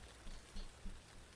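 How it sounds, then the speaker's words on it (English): Rain falls outside in a soft, steady patter, faint and continuous with a few slightly louder drops, alone without voices. "Is it raining outside?"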